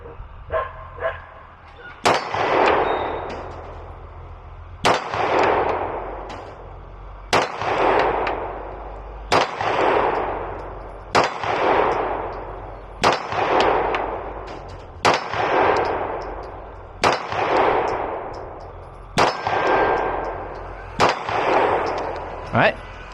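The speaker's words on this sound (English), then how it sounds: "So we're going to go ahead and just shoot a quick group." A Beretta APX A1 Compact Tactical pistol fired at 50 feet outdoors: about ten loud, sharp shots, each spaced roughly two seconds apart, with a ringing decay after every report.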